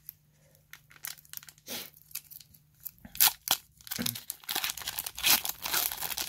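Pokemon Team Up booster pack wrappers are crinkled and torn open, producing bursts of crisp foil crackling and ripping that grow busier and louder toward the end, close to the microphone with no talking.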